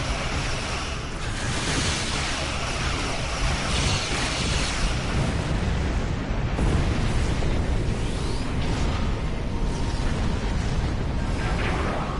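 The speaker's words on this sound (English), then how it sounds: "Target those Ilachi and fire!" Starship weapons fire and explosions against Ilachi ships in the Star Trek Online space game, a dense continuous rumbling roar with heavy low booms and bursts layered on top, loud and sustained for the whole stretch.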